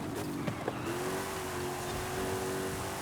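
A small race car driven in Forza Horizon 5, its engine holding a steady high drone at speed with the tail sliding out, heard alone and fairly close.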